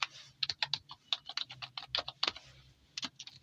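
Close, crisp computer keyboard typing in short irregular bursts of key clicks with brief pauses between them, alone with no speech.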